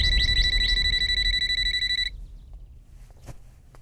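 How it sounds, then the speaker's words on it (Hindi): A telephone ringing in a Hindi comedy film scene, a loud, rapid warbling electronic ring repeating for about two seconds before it cuts off, followed by quieter room noise and faint clicks. "अरे फोन इतनी देर से बज रहा है, उठाते क्यों नहीं?"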